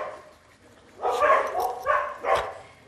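A greyhound vocalises close by, making a few short whining, yelping calls in uneven bursts after a quiet start, with no talking.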